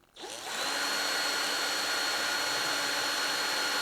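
A steady, high-pitched electric drill with a small bit whines continuously after a brief start, boring shallow marker holes on a model railway, close and loud with no pauses, no voices over it.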